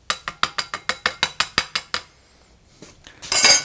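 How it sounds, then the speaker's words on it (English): Metal parts of a Firebox folding steel stove being handled as the pot rack is popped off and the ash pan slid out: a rapid run of about ten sharp, evenly spaced metallic clicks, a brief quiet, then a louder scraping rattle. "First, just pop off the pot rack there. Slide out your ash pan and just dump it out."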